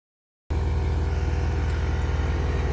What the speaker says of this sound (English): just getting the compressor going